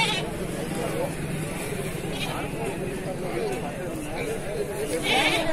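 Goats and sheep bleat at the Eral goat market, a busy open livestock sale with many young kids and large adult goats, their calls blending into a constant crowd din beneath nearly continuous talk.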